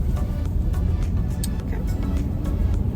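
Steady low road rumble from inside a moving car on the drive home, broadband and continuous with faint ticks, no one talking.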